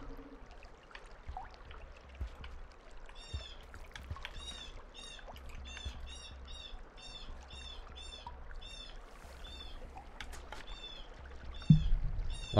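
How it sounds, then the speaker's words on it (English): Loud birds outside chirp in rapid repeated bursts throughout, fairly distant and bright over a quiet indoor background with faint bumps and clicks. "There are some loud birds outside."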